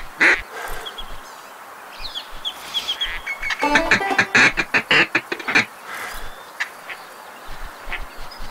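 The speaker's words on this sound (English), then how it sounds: "When you see ducks further in the distance, you need to use the greet call instead of the feed call." A duck greet call from the Duck Dynasty video game sounds as a string of rapid, raspy quacks that swell into a loud, dense burst in the middle and then trail off into a few scattered calls.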